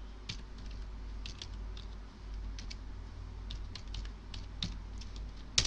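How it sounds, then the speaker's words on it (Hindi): Typing on a computer keyboard, a quiet patter of irregular key clicks in short bursts over a low hum, ending with one sharper, louder keystroke like an Enter press. "इसके लिए आपको टाइप करना होगा गूगल अर्थ"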